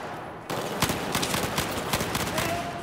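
After a brief lull, rapid bursts of gunfire in the video game Battlefield 4 break out and continue in quick, uneven volleys, loud and close.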